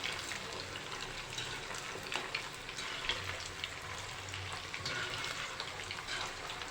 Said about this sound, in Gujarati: તો હવે આપણે બોલ્સને હલાવી લઈશું